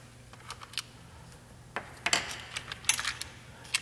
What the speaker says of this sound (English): I'm going to remove those 3 Allen head screws that hold the starter on